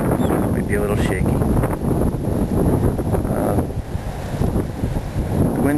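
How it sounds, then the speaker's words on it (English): Strong wind buffets the microphone aboard a small boat out on the water, a heavy continuous rumble and roar with faint background talk mixed into the gusts. "The wind's coming in about the direction the camera's facing right now."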